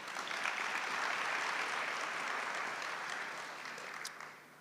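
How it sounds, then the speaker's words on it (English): Sustained applause from a large audience at a university graduation ceremony for a business and management sciences faculty, a broad, even roar of clapping that fades slightly toward the end. "A round of applause, please."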